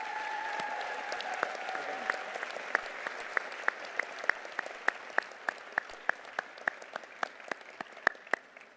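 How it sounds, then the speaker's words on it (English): Audience applause for the professors at a law school commencement ceremony, a steady wash of clapping from a large crowd, with a few sharp, louder claps punctuating it at regular intervals. "How about a round of applause for your professors?"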